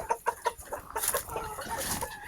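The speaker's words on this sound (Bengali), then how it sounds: "আমাদের ব্রাহামার নতুন যে আমরা মুরগি নিয়ে আসছি" Brahma chickens cluck in a burst of quick, close calls, a few sharp notes at first and then a busier stretch of overlapping clucks as the birds wait eagerly for feed in a farm pen.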